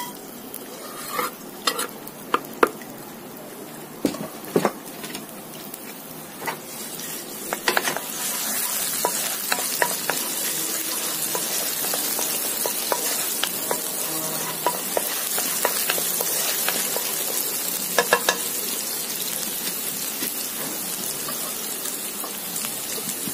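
Chilies, ginger and garlic frying in hot oil for crispy chili garlic prawns, a dense crackling sizzle that grows fuller after a few seconds, with scattered sharp pops and utensil clicks, close and continuous without speech.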